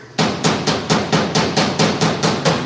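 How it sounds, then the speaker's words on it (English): A hammer taps metal into place during welding work, about ten evenly spaced sharp strikes in quick succession, close and loud with no talking. "we need to tap that in just a little bit right here"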